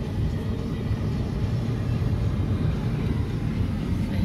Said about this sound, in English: Oh, airplane! DHL airplane.